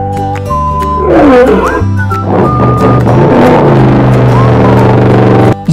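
A lion roars in a loud, rolling burst within a busy children's cartoon soundtrack full of bright melodic tones and effects, with a few vocal swoops layered over steady background music.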